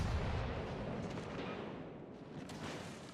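Secondary guns of the battleship HMS Renown fire in World of Warships Legends, giving a dense rumbling barrage of overlapping booms that is heavy at the start and fades slightly, with no talk.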